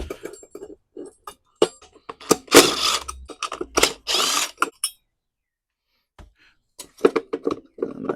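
A harmonic balancer puller works on the flywheel of a Craftsman lawn mower, making scattered metallic clicks, clinks and short ratcheting bursts with quiet pauses, close by.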